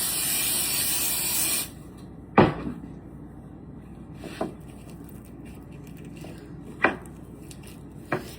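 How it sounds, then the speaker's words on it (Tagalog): Canola oil cooking spray hisses loudly onto a hot pan for a little over a second. A few sharp kitchen clanks and knocks follow at intervals. "Kuha ako ng canola oil pang spray. Mainit na yung pan. I-sprayhan ko lang ng oil."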